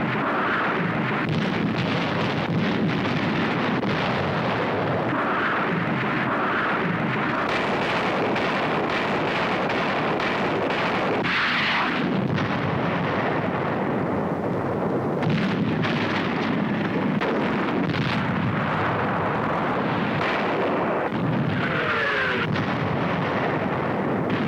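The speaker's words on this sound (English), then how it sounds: "Navy rockets." Navy rockets fire in World War II archival footage, a dense continuous roar of blasts and rumbling explosions with gusty surges that stays loud and unbroken throughout.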